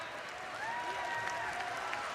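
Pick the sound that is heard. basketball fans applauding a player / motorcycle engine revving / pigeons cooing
basketball fans applauding a player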